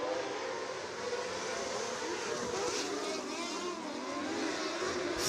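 A field of super late model race cars thunders down the back straight at Action Track USA, a dense, sustained roar of several engines blended together at a distance, with an announcer talking over it.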